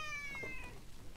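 A house cat gives a brief, faint meow, close but quiet, over a low background hum with a few thin electronic tones.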